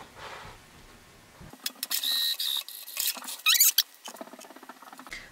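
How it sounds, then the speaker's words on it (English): Sewing machine edge stitching along a T-shirt placket, with short bursts of rapid mechanical stitching separated by brief pauses, close and fairly loud, with no talking. "So we're gonna really quickly edge stitch."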